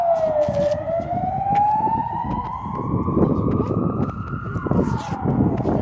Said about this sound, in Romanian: Poliția. Ia uite salvarea.